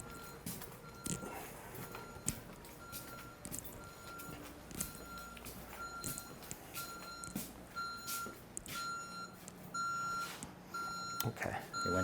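An intrusion alarm panel beeps steadily through its arming countdown, sounding a repeating electronic tone in a regular rhythm, fairly clear against a background of low room noise and scattered knocks.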